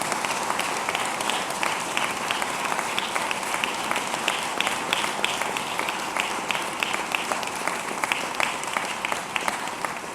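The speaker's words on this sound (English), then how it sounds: "another round of applause for our Mount Erie Baptist Church Choir and our United States Marine Corps Color Guard" A crowd at a mayoral inauguration ceremony applauds a Baptist church choir and a Marine Corps color guard, with continuous dense clapping heard at moderate volume throughout, no voices over it.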